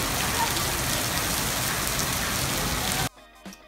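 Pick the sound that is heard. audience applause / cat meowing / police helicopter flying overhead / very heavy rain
very heavy rain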